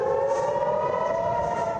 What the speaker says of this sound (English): the sound of sirens and Hamas rockets echo throughout the southern Israeli air